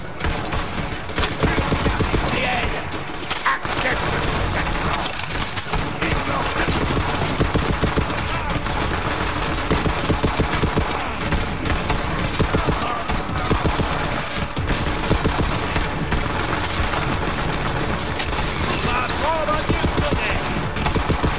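Dense, continuous gunfire from weapons in the video game Borderlands 3, loud rapid bursts layered over game sounds with no let-up, and a voice speaking in between.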